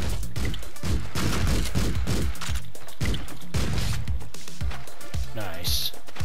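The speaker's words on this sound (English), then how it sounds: "Get my gun and start shooting." Gunfire in the video game Streets of Rogue, a rapid stream of shots and impacts layered over game music and a voice talking throughout.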